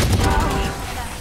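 Rapid gunfire in the tactical shooter Valorant, a dense burst of shots running through the whole moment over a low rumble, with voices in the background.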